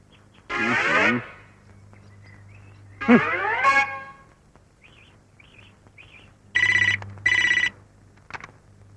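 A telephone rings in a Chhattisgarhi film scene, with bright electronic bursts in several short rings separated by pauses over a faint steady hum, and brief chirping tones in between.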